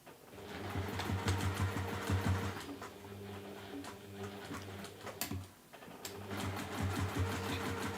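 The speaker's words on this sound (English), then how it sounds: "And I'm going to just straight stitch it." A sewing machine runs a straight stitch through fabric scraps for a scrappy bunny project, its needle chattering in a fast steady rhythm close by, pausing briefly near the middle before starting up again.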